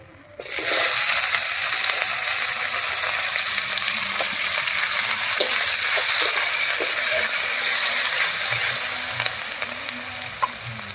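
Chopped onions hit hot oil that was already used for frying fish and spiced with whole garam masala and cumin, bursting into a loud, steady sizzle that holds evenly and eases slightly near the end, with light stirring clicks.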